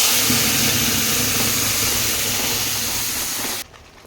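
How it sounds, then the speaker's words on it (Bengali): Spice paste hits hot oil in a pan for a loud, steady, close sizzling hiss that holds evenly for several seconds, then cuts off abruptly to near quiet. "আমার কাছে যেই বাটাটা ছিল, আমি এই বাটাটা ঢেলে দিলাম।"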